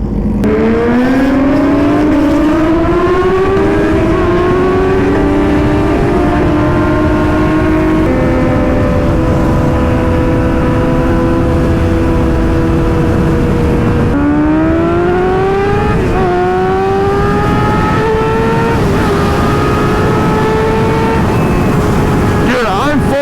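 Superbike engines rev hard at full throttle, a loud close whine rising in long pitched sweeps through the gears, steady and continuous with faint talk underneath.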